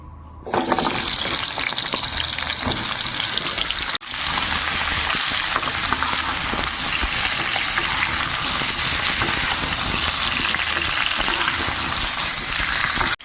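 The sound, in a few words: frying fish in a pan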